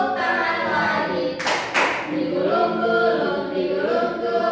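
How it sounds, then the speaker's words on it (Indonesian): Children clap their hands in a classroom song game, giving a short burst of two sharp loud claps over steady chanting and singing voices. "Buka tutup, bertepuk tangan."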